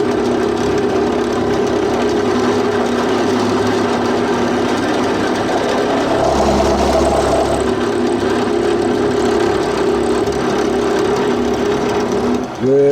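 A milling machine cuts an involute gear in hard material, giving a loud, steady mechanical whir with a constant hum and whine that runs without a break to the end.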